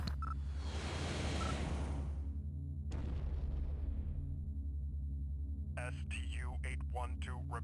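A target explodes in an alien-invasion video game: a loud, broad roaring blast that fades over about two seconds, then a second sharp burst that decays slowly over a steady low droning tone, with electronic chirps near the end.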